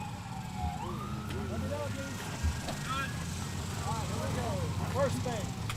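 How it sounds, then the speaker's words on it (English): An emergency vehicle siren wails and sweeps up and down as it passes near a beep baseball field during a 2023 World Series game, fairly loud under ongoing talk and crowd noise. "we'll pause for a siren."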